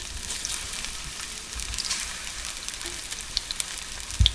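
Sugared fruit frying slowly in an oiled pan gives a steady, soft sizzle throughout, with faint crackles and a few small pops near the end, close by and without talk.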